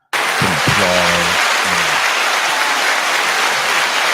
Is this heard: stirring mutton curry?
no